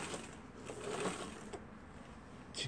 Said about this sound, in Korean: 직선 전용 재봉틀인데 모터를 부착해서 아주 편리하게 되어 있던 구조입니다.